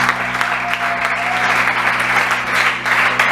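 A church congregation applauds during a sermon: a loud, steady wash of clapping that fills the whole stretch without a break.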